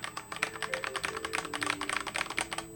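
Fast, steady typing on a Ducky One 3 mechanical keyboard with silver switches, close up, a crisp clatter of keystrokes and no voices.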